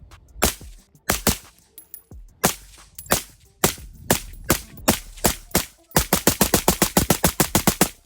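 Suppressed PSA Sabre 15 AR-15 rifle fitted with a Sandman S suppressor, firing loud, close shots: a few spaced single rounds, then a rapid even string of about a dozen shots at the end.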